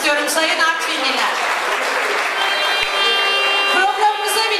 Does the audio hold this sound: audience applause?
yes